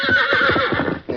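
A fiery three-year-old stallion whinnies loudly and close, a shrill wavering neigh filling the clip before a brief pause and a final snort.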